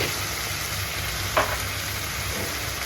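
Tomato palya frying in a pan with turmeric, a steady close sizzle running throughout, broken once by a brief scrape of stirring, with no talk.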